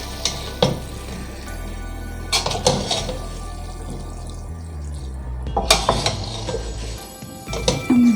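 Spaghetti and chicken are tossed and mixed in a pan on a stove, with repeated metal scrapes and clinks of the utensil against the pan over a low sizzle, loud and close.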